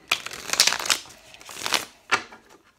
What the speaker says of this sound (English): I'm gonna shuffle them one more time